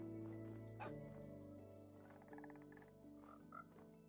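Croaking frogs in a snowy ice biome in a video game, several overlapping croaks and yips layered over sustained tonal game sounds, close and fairly loud throughout.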